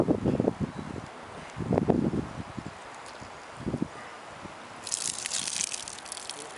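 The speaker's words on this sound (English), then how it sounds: "Let's pour it out." Dirty water from the recovery tank of a Rug Doctor Pro carpet cleaner, used on a car interior, poured out in a few short gushing, splashing bursts with quiet gaps between them, followed by a softer hissing trickle toward the end.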